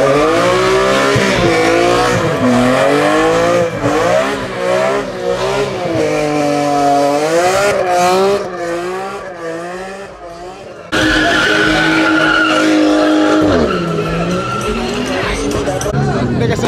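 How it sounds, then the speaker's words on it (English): A car at a New York City street car meet does a burnout, engine revving hard with rising and falling pitch and tires squealing loudly, the roar cutting briefly before surging again, with people talking nearby. "They're trying to get the cops to do a burnout."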